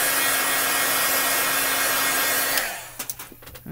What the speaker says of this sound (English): I'm just going to heat set this real quick to make sure it's nice and